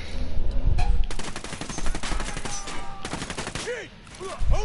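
Gunfire in the video game Ghost Recon Wildlands, a dense, sustained barrage of rapid automatic shots with sharp cracks layered together, loud and continuous through the fight with brief game effects and a voice mixed in.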